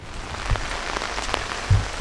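Rain falls steadily outdoors near the entrance of an old former luxury spa, a soft continuous patter with a few heavier drops or taps landing close by, no voices.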